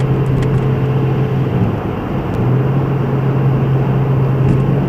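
A Porsche 911 engine under acceleration, heard as a loud, steady in-car drone with a brief dip in pitch and level like a gear change midway, then a strong pull again.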